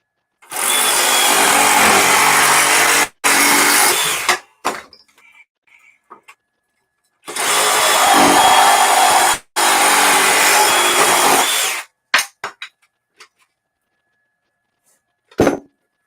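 A DeWalt power tool cuts during a live tool test, two loud sustained bursts of roughly three and four seconds each, each broken by a brief gap, separated by quiet handling clatter and ending with a short final blip.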